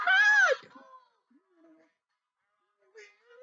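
A voice imitating a little red hen's cluck for children, one bright high-pitched warbling call, followed by faint soft fragments and a short rising bit near the end.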